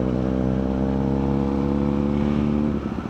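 Kawasaki Z800 and KTM Duke 390 motorbikes echoing inside a tunnel, a loud steady engine drone with rising revs that cuts off sharply near the end.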